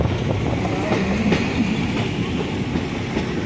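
Steady rumbling rattle of the 13142 Teesta Torsha Express rolling into New Farakka Junction, close and continuous, with faint wheel clatter throughout.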